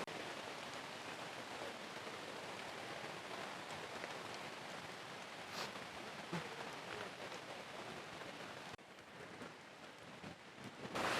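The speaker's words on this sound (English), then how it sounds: "The waterfall is getting louder, but so is the rain." Heavy rain pours steadily in Waimea Valley, a dense close hiss of drops on leaves and ground with occasional louder splashes, growing slightly heavier toward the end.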